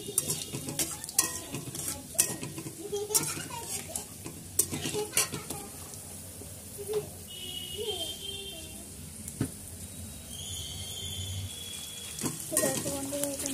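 Bay leaf, whole cumin, whole garam masala and a dried chilli tempering in hot oil for a fish curry: crackling sizzle with frequent sharp pops and clinks of utensils against the pan, a few faint voice-like bits.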